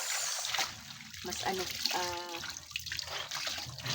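Water is poured and splashed for rinsing laundry by hand, with uneven bursts of pouring and dripping close by, while a person talks over it.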